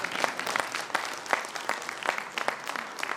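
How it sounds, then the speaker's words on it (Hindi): Dense, steady clapping from a seated audience at the BVP NCR-1 conference in Agra, many hands at once with crisp individual claps poking out, moderately loud and continuous with no voices over it. "हाँ, ताली बजा रहे तो जोरदार बजाइए ना।"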